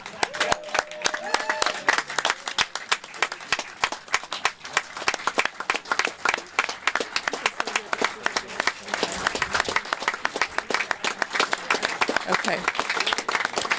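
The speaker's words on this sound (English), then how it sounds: "we're going to stand and applaud her" A standing audience at a resilience center groundbreaking ceremony applauds, with dense, sustained clapping that holds steady and builds slightly over about fourteen seconds, and a brief spoken word near the start.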